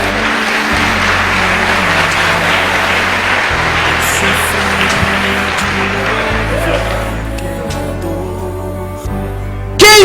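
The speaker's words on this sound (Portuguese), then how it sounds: "Você pode aplaudir ao Senhor?" A church congregation applauds continuously, a dense, loud wash of clapping filling the space and carrying throughout, with faint background rumble beneath.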